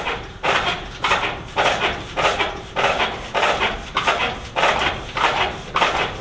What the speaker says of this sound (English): He's shaking the barn.